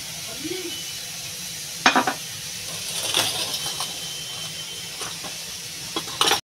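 Oil hisses in a hot karai as a Bengali tilapia and eggplant curry gets underway, a soft steady sizzle close by with a few sharp utensil clinks scattered through.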